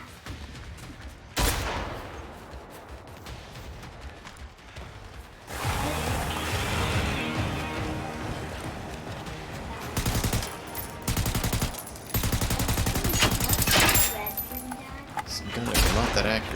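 Automatic and rapid gunfire from the video game Generation Zero, with bursts of shots and mechanical clatter coming in several loud stretches, some broken by pauses, with faint talk in places.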